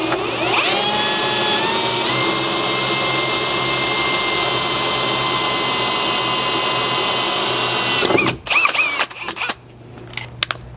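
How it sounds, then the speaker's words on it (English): A power drill fitted with a step bit bores a pilot hole into a Land Cruiser 100 Series floor, giving a loud, steady high whine for about eight seconds before stopping abruptly, followed by brief clatter and handling noises. "you can go ahead and drill your first hole."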